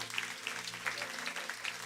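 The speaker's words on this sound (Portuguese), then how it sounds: "Aplaude ao Senhor." Congregation clapping during a Sunday church service in Cascais, a steady broadband patter of many hands over a low background hum, moderately loud and continuous with no talk on top.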